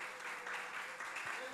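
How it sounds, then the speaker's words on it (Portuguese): A church congregation applauds, a soft continuous wash of hand clapping heard at a distance, faint and even over its short length. "Dê uma salva de palmas ao Senhor"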